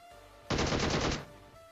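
A short, loud burst of rapid automatic gunfire in a mobile battle royale shooter game, a teammate laying down cover fire, lasts under a second against a quiet background hum.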